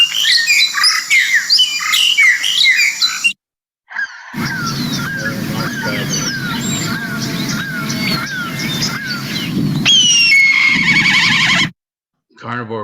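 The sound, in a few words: long-tailed starling calls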